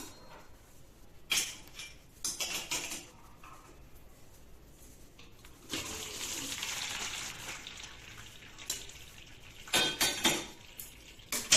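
Soaked, puffed soya chunks are drained in a pot, with bursts of pouring and splashing water, metallic clatters of the vessel and quieter handling noises in between, close and uneven.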